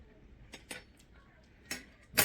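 A few sharp metallic clinks and taps of cutlery against a plate as an Egyptian cake is cut, spaced irregularly and fairly quiet, with a last louder clatter at the end.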